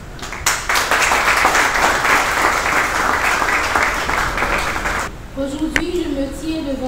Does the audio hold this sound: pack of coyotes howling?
no